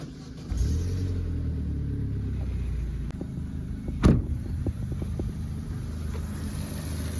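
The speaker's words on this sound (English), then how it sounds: "we'll just let the engine run for maybe 2-3 minutes just to make sure that the oil is obviously circulated around the engine" A Vauxhall VXR engine starts and settles into a steady, low idle just after an oil change, its rumble constant and close, with a sharp click partway through.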